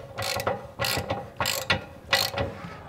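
A hand ratchet clicks in four quick bursts as an anode rod is tightened into an RV hot water heater, close and crisp with short pauses between strokes.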